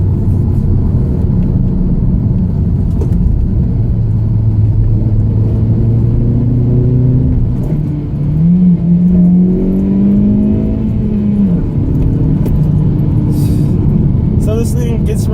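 Lowered Hyundai Veloster Turbo Rally Edition hatchback driven briskly through a series of turns, its engine droning loud and steady from inside the cabin, the pitch rising and falling as it accelerates out of each bend.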